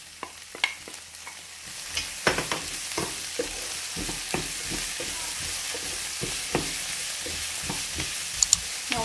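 Onion, garlic and bell pepper sauté in a pan, with a gentle continuous sizzle broken by frequent sharp clicks and scrapes from a spoon stirring against the pan.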